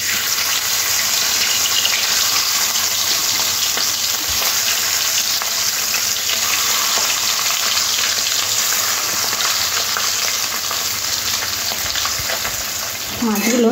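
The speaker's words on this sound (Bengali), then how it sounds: "মাছগুলো একটু উল্টে পাল্টে এরকম কড়া করে ভেজে নিতে হবে।" Tangra fish frying crisp in hot oil, a loud, steady, dense sizzle and crackle that runs unbroken throughout, with faint stirring or turning sounds near the end.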